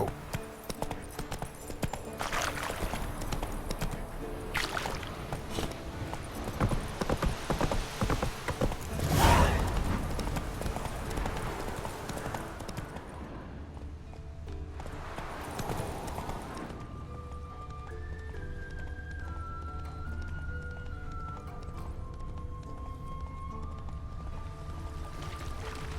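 Roach the horse galloping in The Witcher 3, hoofbeats drumming steadily through the first half amid game music and effects, then giving way to sustained music tones.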